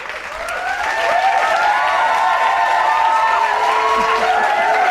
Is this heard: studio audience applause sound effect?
yes